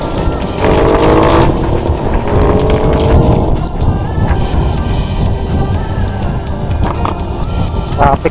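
Road traffic on the way to Pulilan, heard from inside a moving vehicle: continuous engine and road rumble with passing vehicles whooshing by, loud and close, with no talk.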